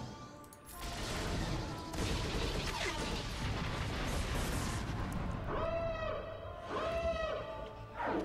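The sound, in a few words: bombs exploding in video game Star Wars Galaxy of Heroes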